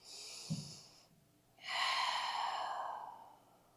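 Two deep breaths during a forward lean over the front leg in a mobility stretch: a short nasal snort-like inhale, a pause, then a long, steady breathy exhale, close and alone with no talking.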